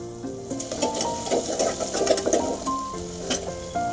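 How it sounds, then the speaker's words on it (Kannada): Crushed garlic and peppercorns fry in a pan for kichdi with a steady sizzle, broken by stirring scrapes and light clinks of a utensil against the pan. "ಆ ಬೆಳ್ಳುಳ್ಳಿ ಹಾಕ್ಕೊಂಡು ಒಂದು ಸ್ವಲ್ಪ ಫ್ರೈ ಮಾಡ್ಕೊಳ್ಳೋಣ"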